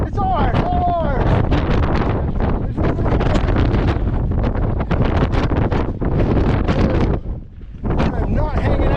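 Strong wind roars across a foggy mountain ridge on the Pemi Loop, buffeting the microphone with loud, continuous rushing noise that dips briefly near the end.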